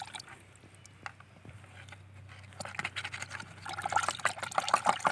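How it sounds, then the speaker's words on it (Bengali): Uxie solution poured into a bucket of water and stirred, a faint low trickle at first that swells into louder splashing and sloshing toward the end, heard alone without talk. "নেওয়ার পরে এটা এই বালতিতে ঢেলে ভালো করে এটাকে মিশিয়ে নিব জলের সাথে"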